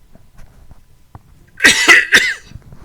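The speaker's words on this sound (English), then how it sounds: "I'm coughing a little bit" A person coughs three times in quick succession, close and loud, with no talking over it and only quiet background noise around the coughs.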